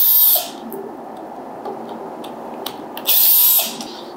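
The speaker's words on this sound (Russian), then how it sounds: "Для этого нам понадобится шуруповерт." Cordless screwdriver backing screws out of a deep fryer's casing: two loud whirring bursts at the start and end, with a quieter stretch of small clicks and handling noise between them.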